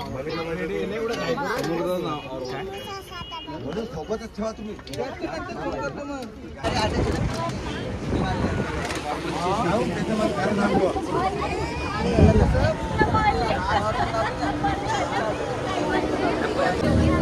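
Passenger boat packed with life-jacketed riders off Malvan's Tarkarli beach, near Sindhudurg fort: steady engine and water rumble under constant crowd chatter, growing louder and busier after the first few seconds, with wind buffeting throughout.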